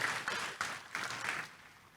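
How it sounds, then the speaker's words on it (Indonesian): A church congregation at a Sunday service claps together in a brief burst of applause that fades out within two seconds, no talk over it. "Tepuk tangan dulu yang meriah buat Tuhan kita Yesus."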